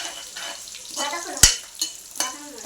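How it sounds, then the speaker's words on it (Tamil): Onions sautéing in a pan, stirred with a ladle while cooking idli tomato kurma: a soft, steady sizzle with a few sharp clanks of the ladle against the pan, close by, with no talking. "வெங்காயம் வந்து நல்லா வதக்கணும் வதங்கணும்"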